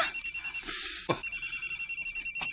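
A telephone rings close by with a fast, trilling electronic bell in rapid repeated pulses, broken briefly by a louder rustling noise before the ringing resumes.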